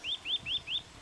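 A Eurasian nuthatch calls in a forest, four clear rising whistled notes evenly spaced, close and distinct against a quiet background.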